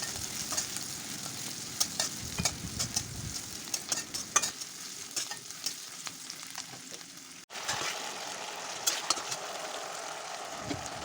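Cumin seeds, a green chilli and onion sizzle steadily in hot oil in a pan, broken by scraping stirs and clinks of a spatula, close and continuous for the whole stretch.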